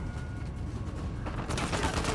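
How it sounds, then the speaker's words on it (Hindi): Gunfire in the video game Uncharted 4, a dense rumbling of distant shots that grows louder and busier partway through. "भाई कहीं गोली चल रही है"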